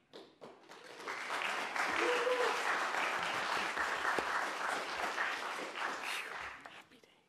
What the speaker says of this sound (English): We don't allow applause.